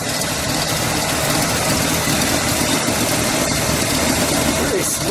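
A 1967 Oldsmobile Toronado with its front-wheel-drive 425 cubic inch V8 and standard dual exhaust idles close by, giving a steady, even rumble that holds for the full stretch without any revving.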